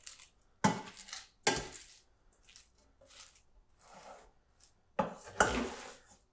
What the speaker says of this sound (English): Just want to mix it again, just to get the stuff from the bottom.